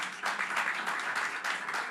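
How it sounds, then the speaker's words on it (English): A seminar audience on spirits brand strategy gives the speakers a final round of applause. A brief, fairly even burst of many hands clapping fills the room and holds steady. "How about one more big round of applause for your speakers then?"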